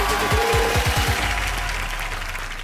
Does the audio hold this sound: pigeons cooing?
no